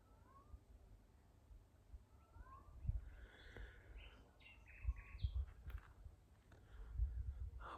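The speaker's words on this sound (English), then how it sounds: "Sounding as though it's in a bit of distress." A cat in distress yowls and meows repeatedly at moderate distance outdoors at a rural finca, its cries mixed with bird chirps and low background rumble.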